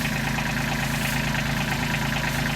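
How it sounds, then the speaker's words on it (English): A small Kubota tractor engine idles steadily at close range, a constant low rumble with a faint rhythmic knock and no voices. "This little tractor does amazing work"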